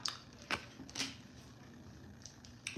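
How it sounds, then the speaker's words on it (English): Tarot cards shuffled by hand, soft riffling and quick snapping flicks at an irregular pace, quiet and close with a low background hum. "Shuffle the cards."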